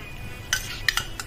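A spoon stirs thickened aval kesari with added ghee in a pan, making a few short, close scraping clicks against the metal over quiet room tone.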